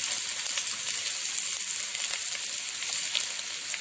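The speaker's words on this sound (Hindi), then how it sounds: "और भिंडी को भी हम हल्का सा फ्राई कर लेंगे।" Okra frying with softened onions in a pan for restaurant-style masala bhindi gives a continuous bright, even sizzle, close up and steady throughout without any voices.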